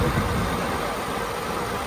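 A DAF diesel engine fitted in a T-170 crawler tractor runs steadily at idle, a loud continuous low rumble close to the microphone.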